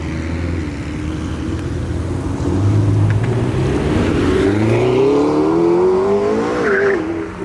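A GT supercar revs hard as it leaves a car show, its engine note climbing and surging loudly near the listener, with some tire noise and crowd background.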